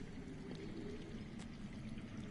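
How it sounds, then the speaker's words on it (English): Low, steady rushing of running water flowing underground in a Game of Thrones video game, a constant broadband wash with no voices over it. "That's water. I hear water. From underground."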